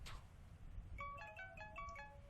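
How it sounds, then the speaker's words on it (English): A creepy phone ringtone from a video game plays a short, clean melody of bell-like tones that begins after a brief soft thud. The sound is quiet and clear over low background hum, with no voices. "Why do you have a creepy ringtone?"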